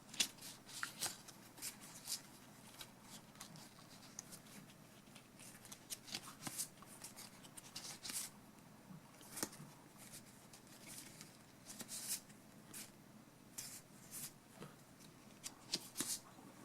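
Japanese-printed plastic marquee cards for a Taito Egret Mini console being handled and shuffled, giving a steady run of close, quiet crisp clicks and flicks, with no talking.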